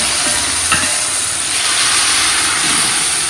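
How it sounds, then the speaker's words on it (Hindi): Tomatoes and green chilies hitting a hot pan with garlic and browned onion, giving a loud, steady sizzle with some stirring, cooked outdoors in a village kitchen. "लहसुन थोड़ा सा पक जाए तो टमाटर और सब्ज मिर्च डालो"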